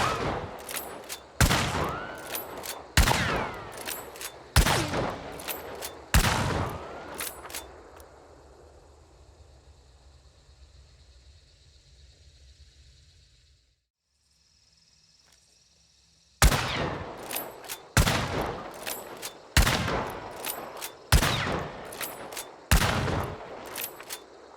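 Centennial rifle fired from the hip in the video game Hunt: Showdown: a run of about six loud, sharp shots with ringing tails, a quiet pause, then another rapid string of about eight shots.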